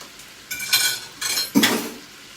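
Liver, gizzard and sausage sandwich filling with garlic being stirred in a pan, a few short scraping and clinking bursts of a utensil against the pan with a soft sizzle underneath, close up.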